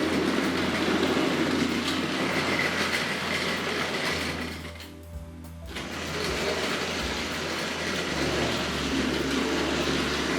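A Tri-ang B12 model locomotive rolls across an R.45 model railway turntable, giving a steady close rumble and clatter that briefly softens and hesitates midway before the rolling picks up again.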